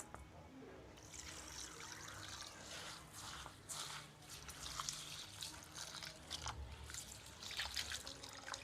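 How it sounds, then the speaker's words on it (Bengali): Rice being washed in water for fried rice makes soft close sloshing, trickling and dripping that stays quiet and continuous, with occasional small splashes. "প্রথমে আমি চালটাকে ধুয়ে ভিজিয়ে রাখবো কিছুক্ষণ।"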